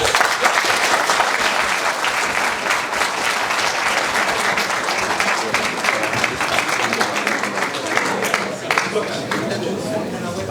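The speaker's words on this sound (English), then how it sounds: "So, clap for yourself" Graduates at a graduation ceremony break into loud, sustained applause, a dense wash of many hands clapping that holds steady throughout with faint chatter underneath.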